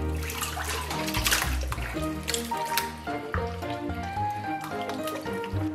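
Washed pork intestines are scooped out of a sink full of clear water, producing close sloshing, splashing and wet squishing with dripping runoff in irregular bursts, with no talk.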